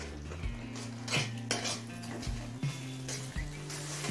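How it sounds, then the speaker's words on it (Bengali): Spice paste with a little water being stir-fried over a high flame in a pan for a Bengali kakrol chicken dish, with repeated close metallic scrapes and knocks of a spatula against the pan and soft sizzling underneath. "এবার হাই ফ্লেমে কিছুক্ষণ কষিয়ে নেব।"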